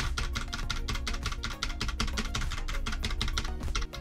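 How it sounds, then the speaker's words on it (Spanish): Rapid, steady keystrokes on a computer keyboard sound close and crisp, a dense run of clicks without pause and no voices. "Voy a pulsar un teclado"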